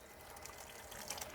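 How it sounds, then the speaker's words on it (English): Water flowing through the trigger spray gun and 50-foot hose of a K1122 portable carpet-cleaning solution unit: a steady, fairly faint hiss and rush with a light mechanical buzz, continuous throughout, with no one talking. "Let some water flow through."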